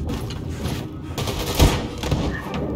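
Powerful gun firing in the first-person shooter Wolfenstein II, a burst of heavy booming shots with one especially loud blast midway, against background game noise.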